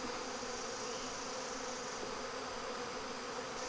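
Honey bees buzz around a hive box during a hive beetle check, a steady, fairly faint hum with no voices.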